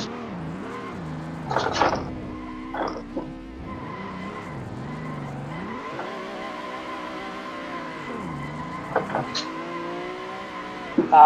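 Car tires skidding: wavering, squealing tones that rise and fall over a running engine, with a few sharper bursts along the way.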